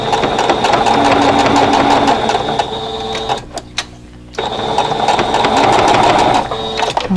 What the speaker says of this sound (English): Okay, so I got the two rows sewn